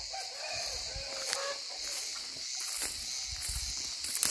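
Roosters and hens in a farmyard coop in Muğla give off distant clucks and a faint crow over steady outdoor ambience with a high insect-like hiss.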